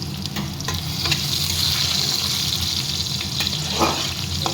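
Onions fry in a pan for a goat meat dish cooked in a pressure cooker, a loud constant sizzle close by with occasional stirring and scraping strokes.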